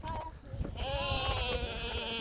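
A goat on a walk in a Warsaw forest gives one long, wavering bleat that starts partway through and holds steady to the end, loud and close, after a few brief rustles.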